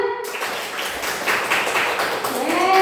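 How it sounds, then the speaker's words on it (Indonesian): A classroom of students claps for a group of classmates, a dense, continuous patter of many hands at close range lasting the whole moment. "Ya, beri tepuk tangan untuk kelompok 2."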